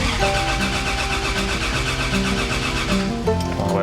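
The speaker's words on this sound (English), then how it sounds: "Well, I want to crank and see if I get RPM." A Toyota 2JZ turbo engine in a Holden Commodore VL cranks over on the starter, a steady rhythmic whirring churn that is loud and close, runs without pause, and is heard without voices.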